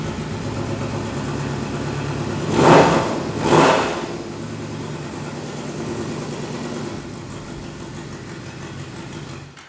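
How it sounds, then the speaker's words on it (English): A Yamaha Royal Star Deluxe motorcycle engine cranks over with two loud bursts, then settles into a steady, close, low rumbling idle that keeps running. "I'm going to try to fire it off here. You can probably hear a little bit of the way the motor runs."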